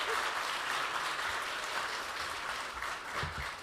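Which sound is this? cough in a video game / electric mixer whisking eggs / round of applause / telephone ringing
round of applause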